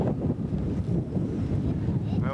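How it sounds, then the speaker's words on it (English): Wind gusts roar and rumble steadily across the microphone, close and loud, with a faint voice briefly near the end. "Is it kind of windy today?"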